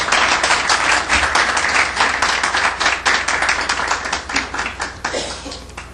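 An audience at a São Paulo legal panel applauds a judge joining the table, dense close clapping that holds steady and tapers slightly.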